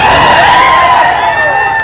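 A loud crowd at a political rally in Pandharpur roars with clapping, cheering and shrill whistles, many voices blended into a sustained wall of noise.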